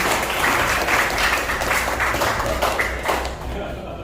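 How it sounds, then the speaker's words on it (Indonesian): A seminar crowd applauds a singer after the national anthem with loud, dense clapping sustained for about three seconds, then easing slightly toward the end, with voices mixed faintly into the noise. "Sekali lagi tepuk tangan dong untuk Sibila."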